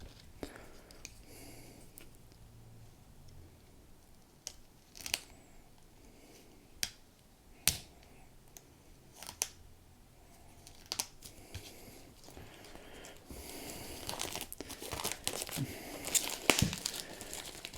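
A packaged Army Book for Warhammer Horus Heresy gets unwrapped near the microphone, with crinkling plastic, sharp tears and scattered snapping crackles spread unevenly across the stretch, growing busier and louder toward the end.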